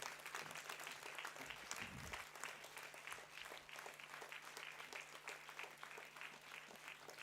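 A convocation audience applauds an award-winning student, steady crowd clapping that carries on evenly, fairly quiet and distant, with a faint low hum underneath and no speech.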